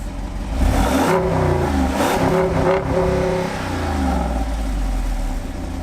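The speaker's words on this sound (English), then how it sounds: "Now you've got to hear this 392. Here it is with the performance exhaust off." A Jeep Wrangler 392 V8 revs hard with its performance exhaust switched off, a loud, deep engine roar that climbs through several rising rev bursts and then settles back to a steady rumble.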